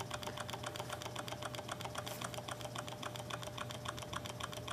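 A miniature Stirling engine running on its own with a quick, even, ticking chug, a fast regular clatter that stays steady and close throughout, with no talking.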